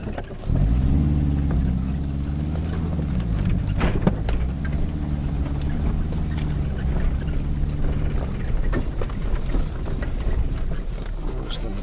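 A 4WD vehicle's engine idles steadily and close by on a bush firewood trip, a constant low rumbling hum with a slight lift in pitch near the start, running alone without talk.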